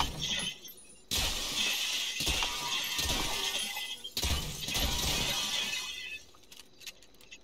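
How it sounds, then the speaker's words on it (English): Glass shatters in GTA 5, with loud crashing bursts of breaking panes and tinkling fragments repeating in several waves, close and dense. "Just break that piece of glass out."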